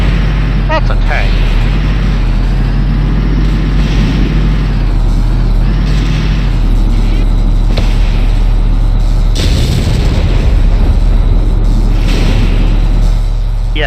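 Mortar explosions in the Valkyria Chronicles video game, heavy low booms and rumbling blasts layered over continuous engine-like drone and battlefield noise, with a talking voice on top.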